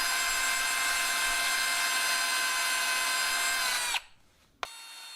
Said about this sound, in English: the chamfered blade side will be rubbing against the sharpening stone.